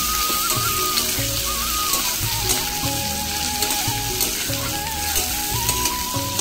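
Chopped garlic and green chillies fry in hot oil with a constant crackling sizzle, close and steady throughout, with tuneful background music running softly underneath.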